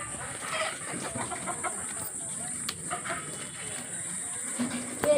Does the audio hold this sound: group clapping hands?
no